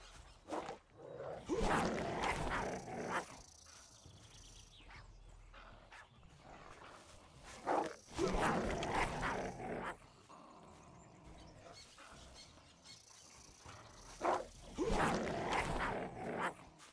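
Dog in a survival video game growling and barking in three loud bursts, each a couple of seconds long, separated by quieter stretches with faint movement and background noise.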